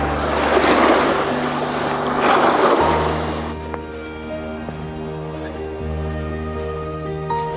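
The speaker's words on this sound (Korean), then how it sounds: "살짝 파도가 치네요." Small waves lap at the shore of Tso Moriri, a high Himalayan lake, with wind gusting across the water; a steady close wash of water and wind noise that quiets partway through, leaving a low hum.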